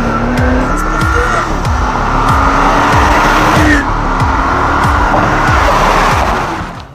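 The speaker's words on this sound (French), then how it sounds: "comme ça vous voyez la voiture partir" A Porsche Cayenne pulls away outdoors with loud, sustained tire squeal over a revving engine, the sound steady and close for several seconds before easing at the end.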